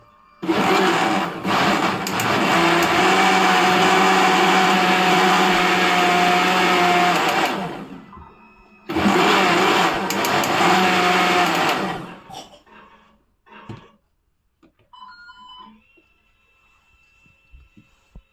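A mixer grinder blends breakfast ingredients with a loud, steady whir for about seven seconds. After a short pause it runs a second burst, then faint clinks and handling noises follow.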